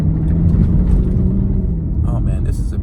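A 2020 Ford Shelby GT500 driving along winding mountain roads, its steady loud low engine and road rumble filling the cabin, with someone talking over the drone.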